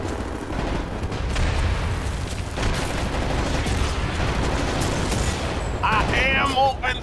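Sustained gunfire from a suppressing-fire sequence in the video game Wolfenstein: The New Order, a dense continuous rattle of shots and booms filling the whole stretch, with a voice breaking in near the end.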